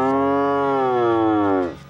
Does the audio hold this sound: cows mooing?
yes